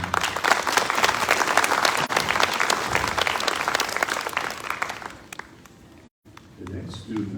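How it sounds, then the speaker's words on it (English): Applause rises from an audience at a school district student of the month ceremony, dense clapping for about five seconds that then fades out, with brief sounds following. "Round of applause, please."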